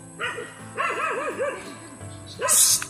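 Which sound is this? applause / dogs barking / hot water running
dogs barking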